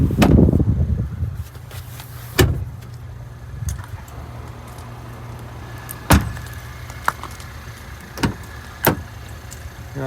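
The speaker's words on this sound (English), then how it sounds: "I'm gonna shut the trunk up." The trunk lid of a 2021 Ford Edge SEL closes with a sharp thud, followed by a few further clunks and latch clicks against a low idling hum, close by and otherwise quiet.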